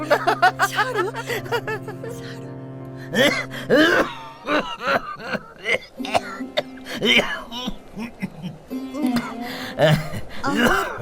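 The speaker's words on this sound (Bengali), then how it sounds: "কাশির দমকটা এলো বুঝি" A coughing fit in a Bengali radio drama, with repeated harsh coughs and throat-clearing in bursts across the stretch, close and loud, mixed with breathy vocal sounds.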